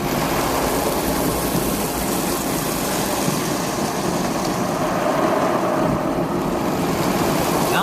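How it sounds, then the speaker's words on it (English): An automatic car wash sprays water and soap and scrubs a car, heard from inside the vehicle as a dense, steady roar of water and brushes that stays loud throughout with no voices. "the car wash is applying water"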